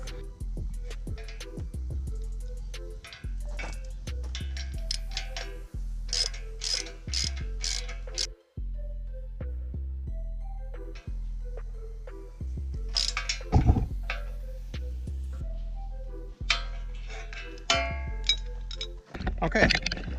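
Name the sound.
tightening auger bolts on a post hole digger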